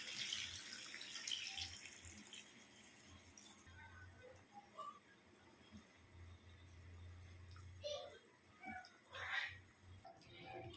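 Water being poured into a pot of chicken and potato curry in a home kitchen, a faint trickle and splash with soft clinks and rustles, quiet and intermittent, and no clear speech.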